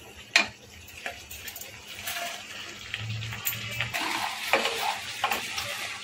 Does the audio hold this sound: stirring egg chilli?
yes